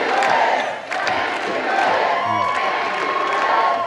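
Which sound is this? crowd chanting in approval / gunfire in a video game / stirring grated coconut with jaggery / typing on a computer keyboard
crowd chanting in approval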